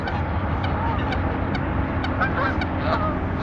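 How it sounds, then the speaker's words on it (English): A dense crowd of hundreds of geese honking and calling over steady outdoor background noise at a country park lake, with overlapping calls throughout and no clear pauses. "And hundreds of geese."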